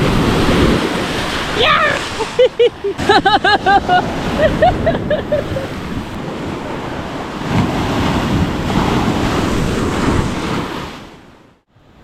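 Ocean waves wash onto the beach at Bukana in a steady rushing roar, with wind buffeting the microphone and a voice calling out briefly.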